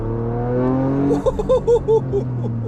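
Toyota GR Yaris with all-wheel drive accelerating: a steady engine drone rises in pitch, then a rapid run of pulsing revs and shifts builds over the last second and a half, close and fairly loud.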